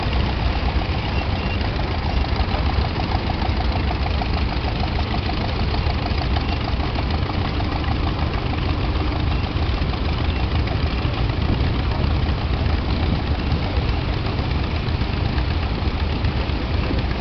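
A Massey Harris flathead six-cylinder engine idles close by with an even, continuous rumble and a faint knocking pulse that never lets up.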